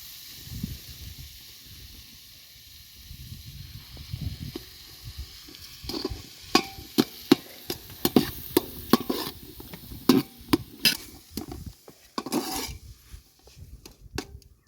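Tomato and capsicum sizzle in a pan while a spoon stirs them, scraping and knocking against the metal in a run of sharp clicks that grows busier toward the end. The frying hiss stays steady underneath.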